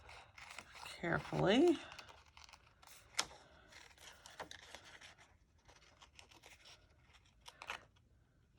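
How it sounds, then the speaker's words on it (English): Scissors snip by hand through a dried flower tag in short, close cuts with crinkling paper, under a calm voice that is talking. "I'm going to cut this down, or cut it out rather"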